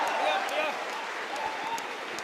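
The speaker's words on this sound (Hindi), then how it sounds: "आपकी तालियों ने मुझे खोल दिया" Crowd at a patriotic Hindi poetry recital applauds in a sustained, even patter of many hands, with a voice faintly audible beneath the clapping.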